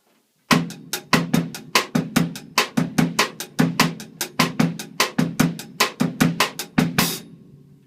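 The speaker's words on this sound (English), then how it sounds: "we have got the bossa nova, which will sound something like this." Drum kit playing a bossa nova beat: an even run of crisp hits with lower syncopated accents underneath, close and steady for about seven seconds, then a final accented hit that rings out briefly. No talking.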